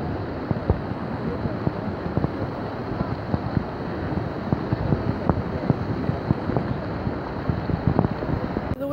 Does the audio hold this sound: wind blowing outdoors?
yes